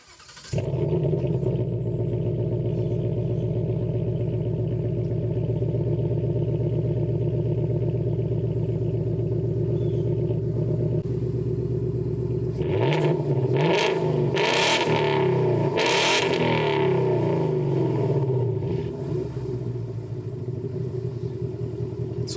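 A 2021 Ford Mustang 5.0 V8 idles with a steady, deep exhaust drone. It then blips through several loud, sharp revs close by, with no talking.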